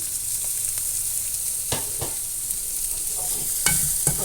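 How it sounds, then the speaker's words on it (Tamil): Fennel seeds, onion, curry leaves, green chilli and ginger-garlic paste sizzle in hot oil during tempering, a steady frying hiss broken by a few sharp stirring scrapes and clicks. "பச்சை மிளகு, இஞ்சி பூண்டு, வெங்காயம், பச்சை மிளகு, கருவேப்பிலை, சோம்பு போட்டு தாளித்தோம்."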